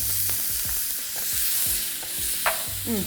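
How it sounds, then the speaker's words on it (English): Garlic and ginger sizzle in a hot wok, a steady loud frying hiss with repeated stirring scrapes and clinks of a utensil against the metal, alone with no talk. "now I'm gonna go in with the garlic and the ginger"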